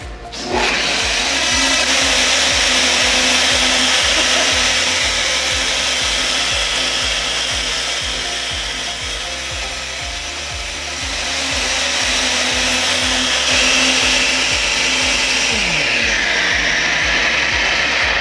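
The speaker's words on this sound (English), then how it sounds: "So we're gonna blend it for 1 minute." An old-school Osterizer blender whirs loudly and continuously as it blends soaked almonds and water into almond milk, one steady motor roar with a slight dip and recovery in pitch.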